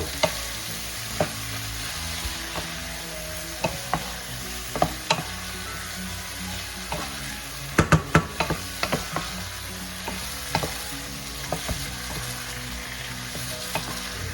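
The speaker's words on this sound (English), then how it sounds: "we're gonna saute that. Add that to the saute." Pork sautéed with shrimp paste sizzles continuously in a pan, punctuated by repeated sharp clacks and scrapes of a utensil stirring and folding the meat, with a burst of quick knocks midway; no voices.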